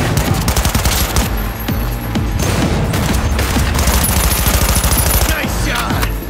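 Sustained automatic gunfire from the Cyberpunk 2077 video game, with rapid, dense bursts of shots that continue almost without a break, loud and close, over heavy low-end game sound.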